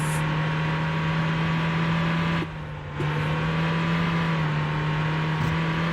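Engine of a battered old Mini in the Motor Town driving game, a steady droning hum at constant revs that briefly dips out for a moment midway, loud and close with no talking.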